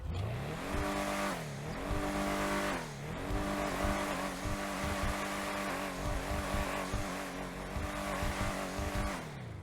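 The Benefactor Streiter sports car engine in GTA Online roars steadily, with pitch rising and falling as it revs and shifts, loud and close, with occasional tire noise and no talking.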